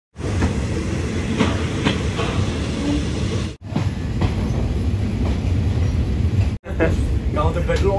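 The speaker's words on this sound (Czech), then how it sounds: "Kámo, to je dlouhé ten vlak." A long train rolls past close by in Thailand, a steady loud rumble and rattle of wheels on track that continues without letup, with brief cuts in the sound.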